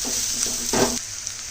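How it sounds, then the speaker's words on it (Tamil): Ginger garlic paste frying with onions in a hot pan, a steady close sizzle broken by a couple of brief stirring scrapes, loud and alone. "இஞ்சி பூண்டு பேஸ்ட்டையும் பச்சை வாசம் போகிற வரைக்கும் வணக்கிக்கணும் நல்லா"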